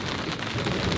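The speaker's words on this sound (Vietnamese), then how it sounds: "bây giờ đây nhá đang có sét sấm ầm lên cô bác ạ" Steady, dense rain pours down during a storm at a rural home, with a low rumble of thunder rolling under the downpour; no voices.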